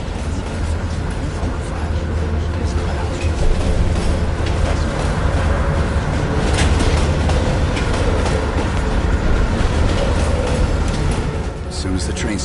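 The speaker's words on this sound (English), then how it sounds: "As soon as the train slows down, you and I'll jump off." A moving train in the Call of Duty Cold War video game rumbles and clatters steadily and loudly throughout, a dense continuous roar of rail noise.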